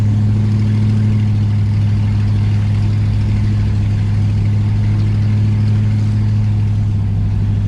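A 1964 Dodge Polara 500 engine pulls steadily up a steep hill, a constant low droning hum from inside the car with no gear changes or talk.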